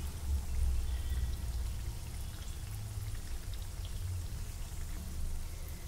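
Donuts fry in hot oil with a soft, continuous, rain-like sizzle and faint crackle, fairly quiet and steady, with no one speaking.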